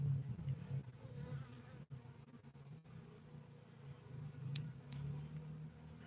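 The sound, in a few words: honeybees buzzing in a beehive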